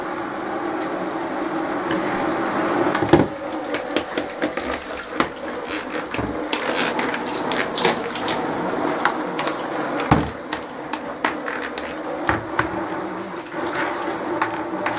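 A water tap runs over hamster cage supplies as they are rinsed, a steady close splashing stream with small clatters and bumps throughout, no voices.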